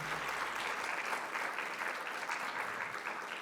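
An audience applauds at a college of medicine convocation and awards ceremony, a dense, even wash of many hands clapping that holds steady throughout, moderately distant in a large hall with no speech over it.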